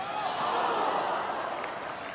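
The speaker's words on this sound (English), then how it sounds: "The ooh from the crowd" A women's A-League football crowd lets out a sustained ooh as Alex Chidiac's long-range shot narrowly misses, a broad, steady roar of many voices at a distance filling the stadium.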